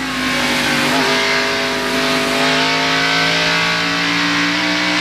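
A Winston Cup stock car engine at Bristol Speedway in 1991 roars loudly from on board, staying on the throttle, then lifting off with a dip in pitch before pulling on again.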